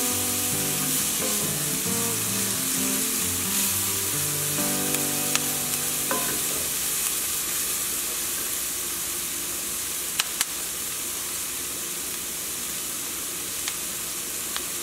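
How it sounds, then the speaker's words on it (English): Vegetables for a veggie pot pie sizzle steadily in a pan while being stirred, a dense continuous frying hiss throughout, with faint melodic music in the first few seconds. "I'm just going to stir this around and let this cook"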